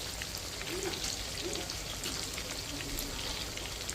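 Chicken pieces fry in a pan with a faint, even crackle and patter of hot oil that holds steady throughout, heard from a little distance at low volume.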